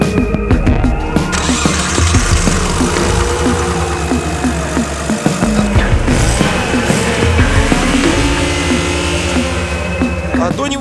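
A Nissan Skyline R32 engine runs loudly and close, its rough rumble revving up and down, with voices speaking over it.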